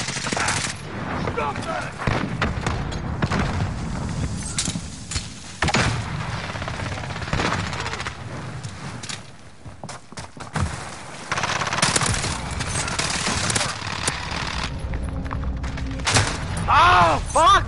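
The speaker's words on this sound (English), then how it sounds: "Under fire! Taking fire!" Rapid automatic gunfire and bursts of shots from a Call of Duty: Warzone match, loud and nearly continuous, with explosions and game voice callouts layered over a player shouting.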